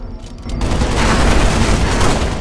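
Heavy turret fire from Halo: Spartan Assault, a dense, continuous roar of booming shots that kicks in after a brief quieter moment and stays loud throughout.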